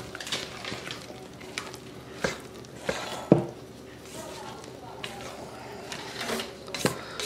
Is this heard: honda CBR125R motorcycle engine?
no